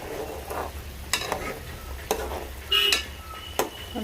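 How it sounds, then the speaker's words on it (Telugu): Dried fish curry with two eggs being stirred in a frying pan: a gentle sizzle beneath repeated scraping strokes of a spoon against the pan, with a few metallic clinks. "అలాగే 2 ఎగ్స్ ఉన్నాయి కదా, అవి కూడా వేసుకుందాం. ఇప్పుడు ఒకసారి కలుపుకుందాం."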